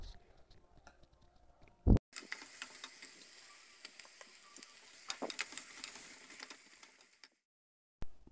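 Onions and tomatoes sautéing in a pan for spicy mutton biryani, a steady soft sizzle and patter with a sharp clank at the start and end, heard close and fairly quiet.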